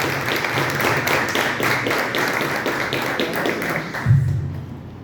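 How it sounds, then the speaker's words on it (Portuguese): Church congregation applauding during a Sunday evening service, brisk clapping with rhythmic taps near the microphone, a low thump near the end, then the clapping thinning out and fading. "dando uma salva de palmas para o Senhor Jesus"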